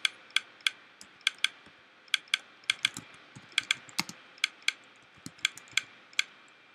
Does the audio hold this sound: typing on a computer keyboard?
yes